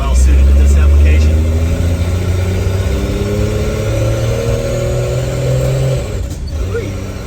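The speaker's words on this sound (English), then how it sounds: "it's no powerhouse, but it is making turbo noises" Turbocharged 1963 Plymouth Valiant Super Six engine fed through a Carter BBD carburetor, pulling steadily under acceleration with a low droning hum and rising tones, loud and close, easing off near the end.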